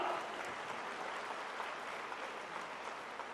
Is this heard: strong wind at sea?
no